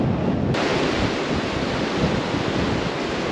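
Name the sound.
flooded overflowing river on Frank Sinatra Drive, Rancho Mirage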